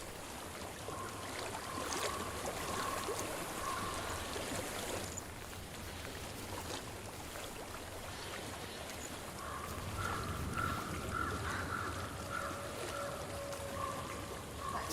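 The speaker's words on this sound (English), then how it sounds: "I hear water. Go to it." Flowing stream water in Hellblade: Senua's Sacrifice forms a steady, dense rushing wash that runs through the whole stretch, with faint tonal ambience layered above and no speech.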